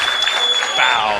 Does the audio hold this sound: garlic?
no